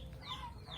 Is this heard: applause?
no